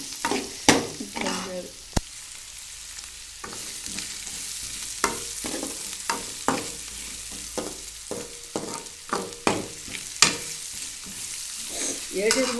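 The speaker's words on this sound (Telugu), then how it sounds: "మెల్లింగా తిప్పుకోవాలి లేకపోతే చేతులు నొప్పులు వస్తాయి" Tamarind curry sizzles in a pan while a spoon stirs and scrapes it, sharp clinks and scrapes repeating irregularly over a soft, steady frying hiss.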